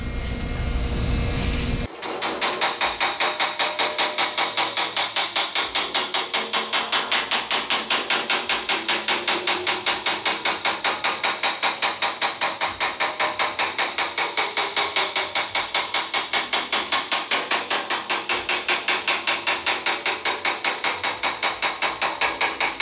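Rapid, steady hammer blows shaping an aluminum wheel pant for a WACO biplane over a buck, a dense continuous metallic rattle of strikes running nearly the whole time after a brief opening pause.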